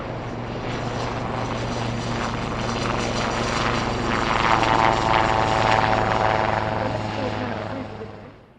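A military rescue helicopter hovers at about thirty feet during an airshow demonstration at a naval air station, its steady loud rotor and engine drone swelling slightly midway, while an announcer talks over it.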